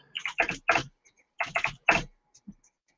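Quick computer keyboard typing, loud and close, in two tight bursts of three or four clacky keystrokes each with a brief pause between them, then one faint tap near the end.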